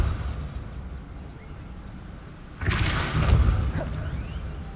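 In the Hogwarts Legacy video game, a Depulso spell is cast. Quiet ambience is cut by a sudden loud whooshing burst that carries a rumbling blast and then fades out over about two seconds.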